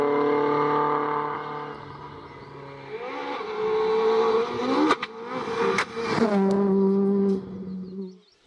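Subaru Impreza rally car on a stage of the Argyll Rally, its engine droning and revving through gear changes as it passes close and loud, with a couple of sharp bangs mid-run.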